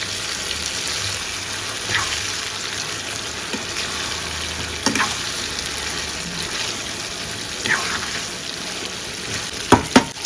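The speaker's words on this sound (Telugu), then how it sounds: "ఇప్పుడు ఇవైతే బాగా వేగల్ల వేగడానికి ఒక ఐదు నిమిషాలు పడుతుంది వేగనిద్దాం" Stuffed brinjals frying with masala in a pan give a steady low sizzle throughout, with a few soft stirring scrapes and a couple of sharp clacks near the end.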